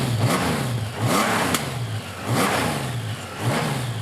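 A motorcycle engine at the Milan motorcycle show revving repeatedly, with four or five rising-and-falling throttle blips over a steady close idle, loud and alone.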